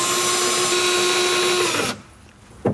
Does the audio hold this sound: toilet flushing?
no